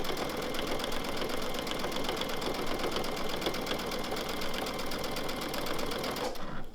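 A sewing machine quilting fabric runs steadily and close with a fast, even mechanical chatter, then stops abruptly near the end.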